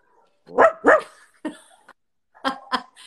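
A person imitating a dog's bark: two loud, close barks, then a shorter yip, and after a pause two more quick barks, all from a human voice.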